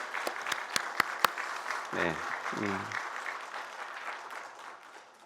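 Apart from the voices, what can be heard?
congregation applauding in congratulation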